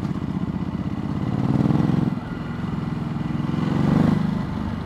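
Kawasaki KLX 500 motorcycle engine while riding: a close, steady, pulsing thump that swells as the revs rise around the two-second and four-second marks, then eases back, with no talk over it.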